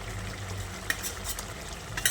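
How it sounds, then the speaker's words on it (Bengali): A spoon scrapes and stirs fried mourola fish and eggplant through a sizzling pan of curry, a low steady frying hiss under a few sharp clinks near the end. "ভাজা মাছ আর বেগুনগুলোকে দিয়ে আবারও সব কিছুকে একসঙ্গে ভালো করে নেড়ে চেড়ে মিশিয়ে নিচ্ছি"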